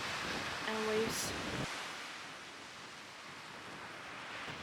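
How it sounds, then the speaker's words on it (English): Sea waves and wind on a beach in Landes, France, heard as a steady, broad wash of surf and gusting air that fills the whole clip, with a brief brighter rush near the start and no voices. "Only us and sea and wind and waves."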